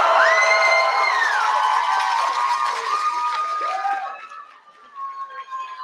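Audience at a debate opening ceremony cheering and whooping, with loud, sustained crowd noise that fades after about four seconds into scattered shouts.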